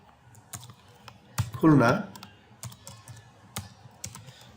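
Quick, uneven keystroke clicks on a computer keyboard while entering data in an Excel spreadsheet, with someone speaking briefly over the typing partway through.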